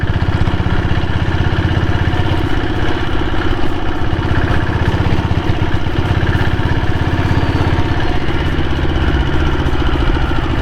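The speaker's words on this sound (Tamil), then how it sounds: "வண்டி ரன்னிங் நல்லா இருக்குது" A 1998 diesel Bullet motorcycle engine runs steadily, a loud, close, rhythmic thumping chug that continues unbroken throughout without any talking.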